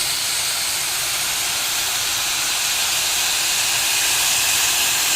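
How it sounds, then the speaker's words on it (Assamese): Water poured into a hot frying pan while cooking ghugni gives a loud, continuous broadband hiss of steam and sizzle that holds steady for several seconds, with no talking. "মোৰ হৈ গৈছে, এইটো পানী ঢালি দিলোঁ অকণমান।"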